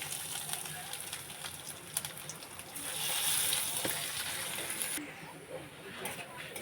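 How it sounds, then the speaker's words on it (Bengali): Chopped garlic frying in hot oil for a Bengali shamla curry with mustard hilsa and prawns, a steady soft sizzle and hiss that swells mid-way and fades slightly, close and continuous with faint kitchen clatter. "রসুন ভাজা হয়ে এসেছে"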